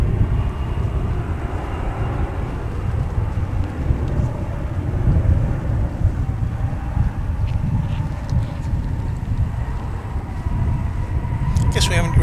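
An American Airlines jet departing Dallas/Fort Worth airport gives a broad, steady low rumble throughout, with a person talking over it.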